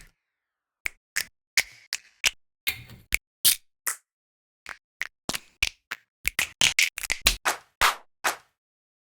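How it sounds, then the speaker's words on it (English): A single clap sample is auditioned repeatedly in Ableton, its sharp, dry hits firing alone in an irregular pattern with silence in between, speeding into quick bursts toward the end. "Let me come back to my drum samples. Let me see. Let me get like a nice clap."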